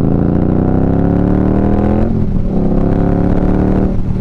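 Indian Scout motorcycle fitted with a Memphis Shades Road Warrior fairing, its engine droning loud and close as it accelerates, pitch climbing through the gears with a shift near the midpoint, wind noise running underneath throughout.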